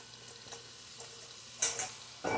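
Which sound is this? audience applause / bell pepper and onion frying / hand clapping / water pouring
bell pepper and onion frying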